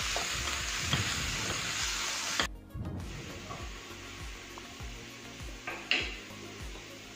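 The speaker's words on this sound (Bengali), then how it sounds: "এবং এটাকেও আমি অ্যারাউন্ড 30 সেকেন্ড মতো সব কিছুকে ভালোভাবে নাড়াচাড়া করে স্টার করে নেব।" Vegetables and paneer, including green capsicum, are being stir-fried in a pan: a loud continuous sizzle with repeated scraping and clanking of a utensil against the pan, one sharp metallic knock near the end, and no talking.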